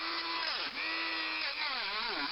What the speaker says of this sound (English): I decided to grind it out and attack with file later. There we're grinding.